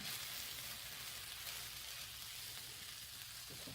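Bacon slices sizzling on the griddle of a retro three-in-one breakfast station, a steady dense crackling hiss that stays faint and even throughout.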